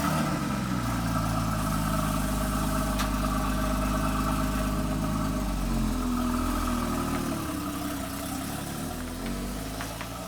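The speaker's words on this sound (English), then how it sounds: "The Miata sounds way better than a 2014 Porsche Cayman S." A Mazda Miata engine runs steadily at idle, a low continuous rumble with a slight shift in tone partway through and a faint fade toward the end; no one speaks.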